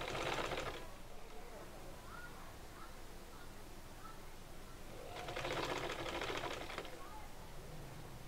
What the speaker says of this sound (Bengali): এইভাবে রেখে আমি সেলাই করে নিচ্ছি।